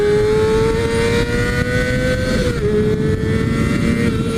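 A Kawasaki Ninja ZX6R sport motorcycle engine pulls hard under acceleration, its steady high-pitched drone rising slightly and dipping briefly midway before climbing again, loud and close with no voices.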